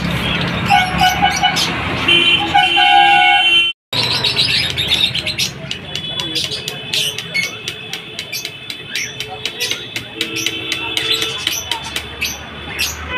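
Pet budgerigars chirping in a home cage, a busy stream of bright high tweets and chatter running throughout, fairly close, with a brief dropout early on and some low room background noise.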